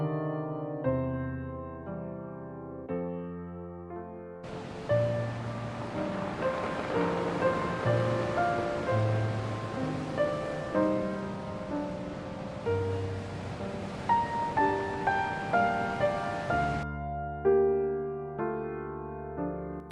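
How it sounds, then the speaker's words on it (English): Wild ocean waves at the Cape of Good Hope, a steady surging wash with rhythmic swells that rises over a backing of music and then falls away, leaving the music alone. "churning up wild waves that once wrecked ships"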